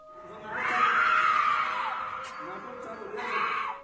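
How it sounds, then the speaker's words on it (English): A woman screeches and wails in an underground parking garage while being restrained by men, long drawn-out cries rising and falling, loud and echoing, with a brief second outburst near the end. "a couple of men manhandling a woman who just won't stop screeching and screaming"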